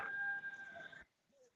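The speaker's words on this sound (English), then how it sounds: "I hear the cockerel in the background there" A rooster crowing in the background, one sustained tonal crow lasting about a second before cutting off, faint and distant, with no talk over it.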